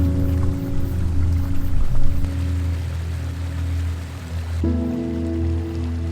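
Steady broadband rush of a mountain waterfall on a hike in the French Alps near Barcelonnette, continuous and fairly loud, with a low rumble beneath and no voices.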